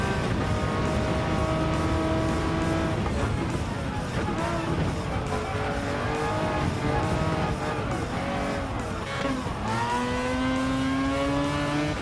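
A Jaguar XJR-9 race car engine roars and revs through repeated gear shifts in Gran Turismo 7, loud and continuous with rising and falling pitch as it accelerates.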